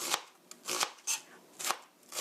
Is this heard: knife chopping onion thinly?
yes